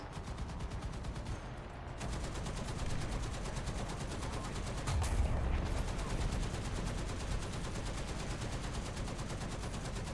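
Dense, continuous gunfire from War Thunder realistic tank battles, with sustained rapid bursts and heavier blasts layered together at a steady, loud level throughout.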